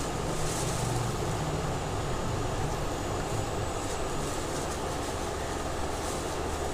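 A Samsung inverter air conditioner's outdoor unit runs under full load after a PCB repair, giving a dense, steady whooshing roar from its fan and compressor with no pauses.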